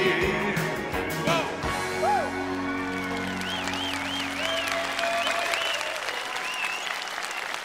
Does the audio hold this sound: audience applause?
yes